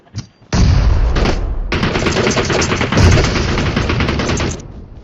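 Sustained automatic gunfire in the battle-royale game PUBG roars loudly and continuously for several seconds after a brief opening burst, dense and close with no talking over it.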